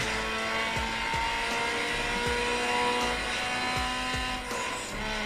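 A steady, high-pitched racing car engine in the video game Need for Speed Underground drones continuously, with repeated gear shifts dropping the pitch at regular intervals.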